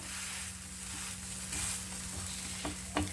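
Rava dosa studded with grated carrot sizzling on a hot pan after being flipped, a steady close frying hiss with a couple of faint scrape clicks near the end.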